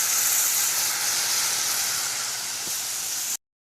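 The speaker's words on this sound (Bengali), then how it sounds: "মা এখানে মাছটা ভাজা করছে, এখানে যে মাছ আলু পেঁয়াজ একটা ভাজা হচ্ছে।" Fish with potato and onion frying in a home kitchen pan, a steady loud sizzle and hiss running continuously for several seconds before cutting off abruptly into silence.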